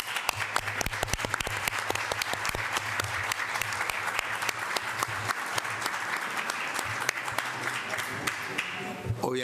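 Delegates at a special session of the General Assembly applaud a reached consensus, a sustained round of steady clapping from many hands in a large hall, with sharper individual claps standing out over a low hum and fading slightly at the close.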